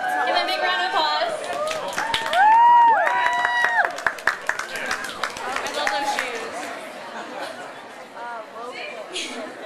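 An audience at a hair and fashion show contest in a café claps and cheers for a contestant, a burst of fairly close applause and lively chatter, with several voices talking and calling out over it.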